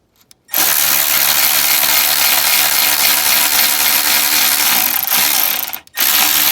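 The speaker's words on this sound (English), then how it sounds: "I'm using an electric ratchet to get it tight, just for now." An electric ratchet tightens a bolt during a torque arm bushing install on a Mini Cooper S R56, giving a loud, steady mechanical whir for several seconds that dips briefly, stops, then starts again.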